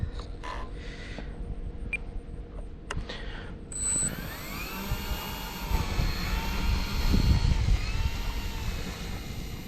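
E-flite Air Tractor 1.5 RC plane's electric motor powering up outdoors in a good wind, a rising whine with steady tonal harmonics building over several seconds, preceded by faint clicks and creaks, fairly close.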